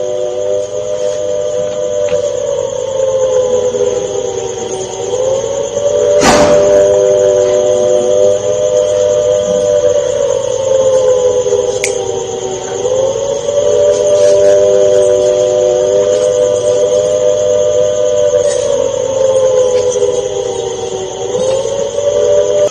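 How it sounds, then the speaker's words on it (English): A steady, wailing air-raid siren in Firozpur, Punjab, drones continuously during a drone attack alert, its pitch wavering slightly up and down, with a thin high whine above it and no voices. "sirens are ringing in Punjab's Firozpur as well"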